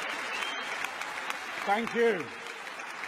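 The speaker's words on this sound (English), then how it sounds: "I take it that applause was for Bill Shankly." An audience at the 2018 Labour Party Conference applauds with continuous, dense clapping, and someone speaks briefly over it.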